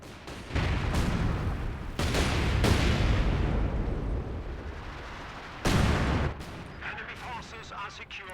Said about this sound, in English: That was actually the light artillery barrage